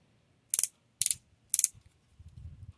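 The ratcheted knee joint of a diecast robot figure clicks in three quick, crisp bursts about half a second apart, close and quiet, followed by soft handling rustle.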